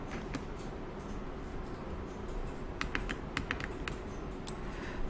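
Quiet computer keyboard typing and mouse clicking during a software exercise, a handful of light, scattered key taps and clicks over a steady low background hum.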